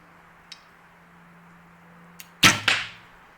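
Arrows from a Win and Win MXT-10 bow thud into a bulldog archery target: two sharp, close impacts in quick succession, preceded by a couple of faint ticks.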